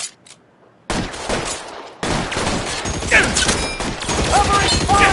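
Rapid gunfire erupts in L.A. Noire: a brief quiet lead-in, then dense, overlapping bursts of shots with crashing impacts that swell and keep going, mixed with shouted voices and game sounds.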